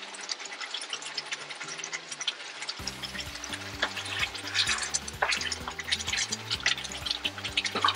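Meat cooks in a pan with a busy crackling sizzle and popping spatters, steady and fairly close, under a pulsing musical backing that enters partway through.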